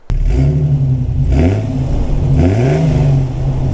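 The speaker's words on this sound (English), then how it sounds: "the first start went incredibly well. The motor sounded phenomenal." A Jeep XJ engine runs after its first start, close and loud, settling into a rough idle and revving up twice in rising sweeps before dropping back.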